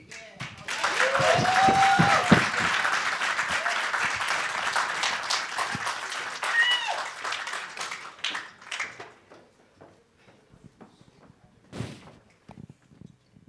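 Audience at the Urban League of Greater Hartford Black History Celebration bursts into loud, dense applause that holds for several seconds, then thins to scattered claps and a few knocks before dying away.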